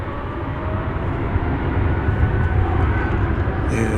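An American Airlines jet at DFW Airport at night, a steady, loud engine roar holding throughout with no talk over it, a brighter hiss rising near the end.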